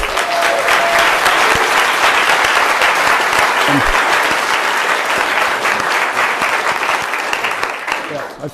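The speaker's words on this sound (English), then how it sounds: "could you please give some applause to our translator, Peggy Eckmeyer?" An indoor audience at a public meeting claps loudly and steadily for several seconds before the applause fades out. Voices can be heard under the clapping.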